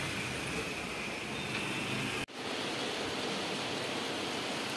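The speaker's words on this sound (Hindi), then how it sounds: "हाँ, देखिए, बारिश ने जोर पकड़ लिया" Heavy monsoon rain driven by wind, a dense, even roar of falling water that briefly drops out before resuming at the same steady level, with no voices.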